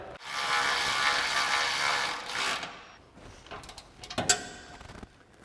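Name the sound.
ratchet with 13mm socket tightening exhaust mount bolt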